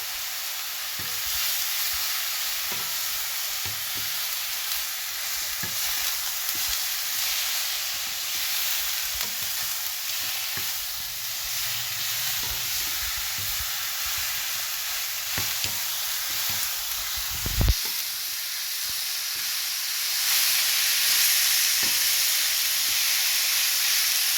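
Galash pastry with minced onion sautéing in a pan, a steady loud sizzle and fry hiss running throughout with occasional scraping stirs.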